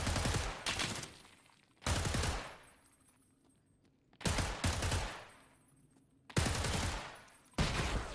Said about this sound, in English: Oh, that was a good nade.